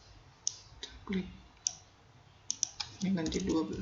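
A computer mouse clicks sharply a handful of times during software work, with brief close clicks spaced irregularly amid quiet room tone and some handling noise.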